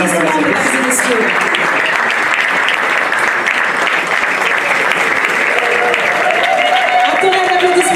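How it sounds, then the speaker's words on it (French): An audience at the Congo Na Paris business fair in Paris applauds to welcome the ambassador, with sustained, loud, dense clapping throughout and voices and music woven underneath. "Sous les applaudissements, mesdames et messieurs."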